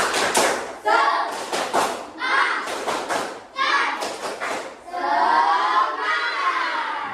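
A group performs a spirit clap in bursts of loud, rapid hand clapping, broken by short pauses, with voices chanting along between rounds.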